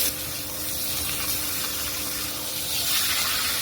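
Bottle gourd greens hit a hot pan of fried onion, garlic and green chilli, giving a steady broad sizzling hiss that holds evenly for a few seconds with no talking.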